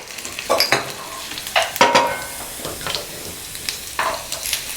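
Oil sizzles steadily in a pan with lentils lightly frying for curd rice tempering, punctuated by a few close stirring scrapes and clinks.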